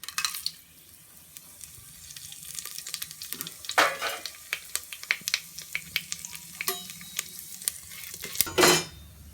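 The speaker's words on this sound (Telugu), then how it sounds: "ఆయిల్ హీట్ అయిన తర్వాత అందులో బిర్యానీ దినుసులు వేసుకుంటున్నాను." Biryani spices dropped into hot oil for mutton biryani, crackling and sizzling close by in irregular bursts, with spatula scrapes against the pan and a louder flare near the end.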